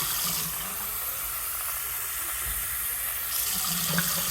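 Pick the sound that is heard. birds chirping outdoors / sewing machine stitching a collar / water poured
water poured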